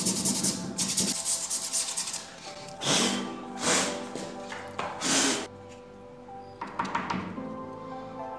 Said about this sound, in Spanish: Con un pedazo de lija del 180 lijamos alrededor de los agujeros.